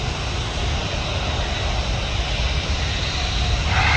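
Loud, steady roar of a jet airliner's engines at full power taking off from Manchester Airport, a broad continuous rumble with no pauses, close and unbroken throughout.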